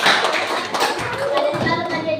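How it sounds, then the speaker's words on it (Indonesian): Schoolchildren in a classroom applaud group 1 with a short burst of dense, overlapping hand claps, busy and close, with young voices mixed into the noise. "Oke, tepuk tangan dulu untuk kelompok 1."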